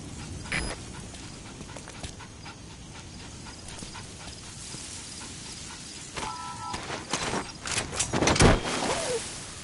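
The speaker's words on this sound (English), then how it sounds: "That wild dog pup." In a video game, a wild dog pup whimpers and pants close by, soft yelps and small high cries scattered among shuffling footsteps and light background noise.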